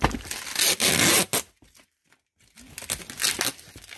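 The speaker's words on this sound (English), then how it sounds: "I hope I'm supposed to be taking this tape off." Packing tape ripped off a cardboard box from a pallet of liquidation returns, loud crackling tearing bursts in the opening second and a half, a short pause, then more crinkling pulls and scraping.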